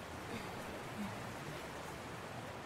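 Steady rain falls in The Last of Us Part II, a continuous even hiss of moderate loudness that holds throughout without letting up.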